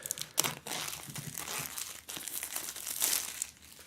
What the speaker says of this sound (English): But of course, peeling off the shrink wrap.